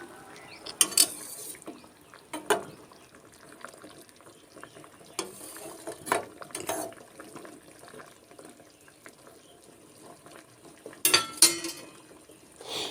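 Close, faint scraping and clicking as the lid of a glass jar of homemade karamcha pickle is screwed tighter, in a few short bursts separated by quiet pauses, with no voices.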